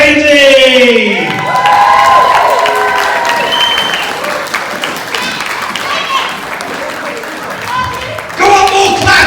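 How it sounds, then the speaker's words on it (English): Loud crowd clapping, cheering and whooping at a comic con costume contest prize-giving, with excited shouts and children's voices rising over the applause, which dips midway and then swells again near the end. "Go on, more claps, more claps. Give me your whoop whoop."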